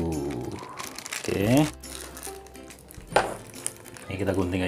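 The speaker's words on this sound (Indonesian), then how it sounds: "Ini kita gunting aja" Scissors snip and crinkle through a tightly tied plastic food package, with rustling and crumpling in bursts while someone talks nearby.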